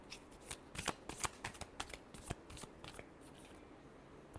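Tarot cards shuffled by hand up close, a quick run of crisp riffling flicks and soft slaps that taper off, fairly quiet with no speech.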